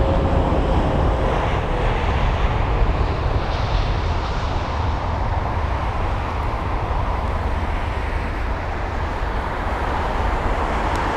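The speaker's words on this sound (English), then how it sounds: "Lufthansa A320neo, off he goes" Lufthansa Airbus A320neo jet departing, a steady loud broadband engine roar that holds evenly throughout with no talking.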